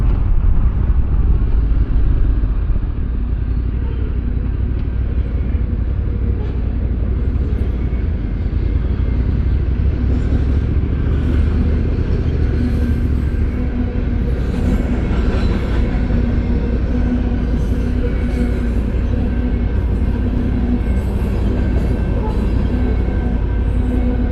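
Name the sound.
train passing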